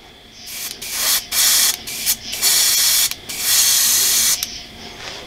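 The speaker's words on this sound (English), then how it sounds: "I get a squirt bottle like this, a condiment bottle." Repeated bursts of hissing spray from a condiment squirt bottle, several short squirts then longer sustained ones, close and loud with brief gaps between.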